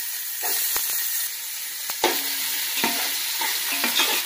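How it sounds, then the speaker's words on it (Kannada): Onions sizzling steadily in hot oil in a pan with sharp clinks and scrapes of a utensil stirring, close up, no talking. "ಈಗ ಈರುಳ್ಳಿ ಹಾಕೊತಿದ್ದೀನಿ"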